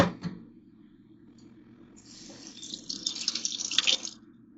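Liquid bulletproof coffee is poured back and forth between containers, a faint trickle building into a louder, splashy stream near the end.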